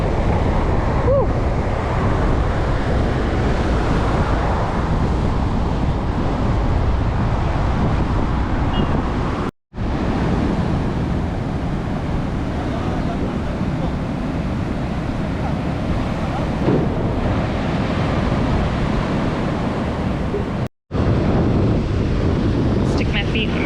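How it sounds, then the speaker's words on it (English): Strong gusting wind buffets the microphone at the Caribbean Sea shore in Cartagena, with waves surging steadily underneath; the roar is loud and continuous, broken by two brief dropouts. "It is crazy windy."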